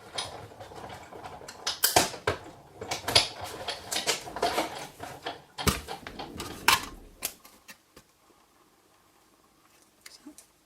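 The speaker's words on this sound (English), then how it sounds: "So I'm just going to run this through my big shot." A Big Shot die-cutting machine cranking cardstock and framelits through under a magnetic plate, heard as close mechanical clattering and ratcheting bursts for several seconds before falling quiet.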